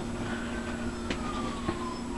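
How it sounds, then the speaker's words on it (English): An emergency vehicle siren wails faintly in the distance outdoors, its tone slowly gliding downward beneath a low steady background hum. "There's been sirens all day."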